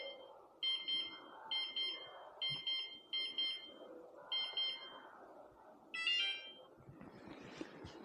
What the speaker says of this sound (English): after hearing 2 beeps, place your finger.